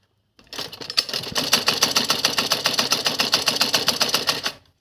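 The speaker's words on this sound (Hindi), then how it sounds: "अब हम इसको इस तरह से पकड़ेंगे और इसके ऊपर सिलाई डालेंगे, बिल्कुल किनारे किनारे से" A sewing machine runs a steady, rapid line of stitches along the edge of a kurti bottom cutwork design lined with fabric, close and continuous for about four seconds with no talking.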